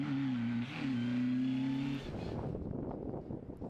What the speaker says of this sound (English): Alex Reid in their Peugeot 205 Maxi, but they get it going again.